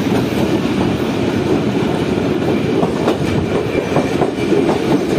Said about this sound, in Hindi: ये आ चुका है लाहौर कैंट रेलवे स्टेशन, जिसको ट्रेन इस वक्त स्किप कर रही है